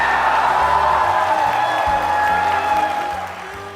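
A large E3 convention crowd applauds and cheers loudly and continuously at a Nintendo DS announcement, a dense wash of clapping and whoops that fades slightly at the end.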